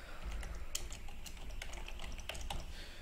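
A computer keyboard being typed on at a desk during a Revit modelling session, soft irregular clicks over a low steady hum, quiet and close.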